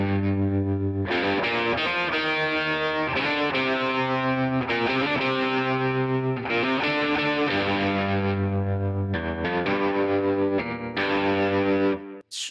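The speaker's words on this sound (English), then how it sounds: "This would make a great lead tone because of all the reverb and delay on there." Sustained electric guitar notes, one after another, drenched in reverb and delay so each tone rings and smears into the next.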